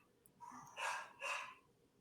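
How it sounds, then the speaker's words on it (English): Two barks from a household dog off to the side, each a short burst about half a second long and a moment apart, moderately loud against a quiet background, with no talk over them. "Apologize for my dogs right now."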